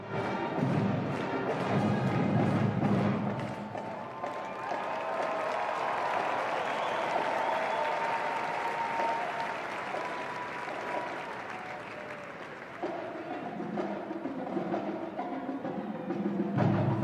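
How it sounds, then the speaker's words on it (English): An indoor arena crowd at a Donald Trump rally applauds and cheers in a dense, continuous roar, loud throughout, with swelling shouts and a faint voice heard near the end. "While they cheer here in the arena"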